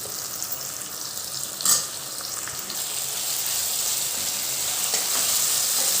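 Tomatoes, tamarind and jaggery roast in a pan for sambar, giving a steady close sizzle and frying hiss throughout, with one brief louder stir or spatter near the start and no voices.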